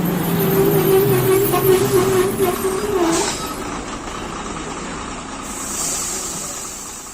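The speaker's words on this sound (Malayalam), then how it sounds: "അതിലും വലിയ ശബ്ദത്തിൽ ബസ് സഡൻ ബ്രേക്കിട്ട് നിന്നു" A bus brakes suddenly and shudders to a halt with a hiss of air brakes, then its diesel engine settles into a steady, rumbling idle close by.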